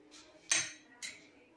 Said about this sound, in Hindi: ये मैं कढ़ाई रख दूंगी